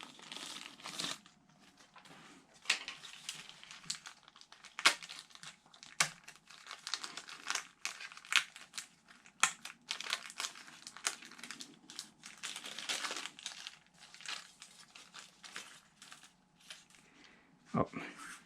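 A small plastic bag of hardware for an RC glider kit is handled close up, giving busy, uneven crinkling and rustling bursts that run almost without pause, with a few sharper crackles.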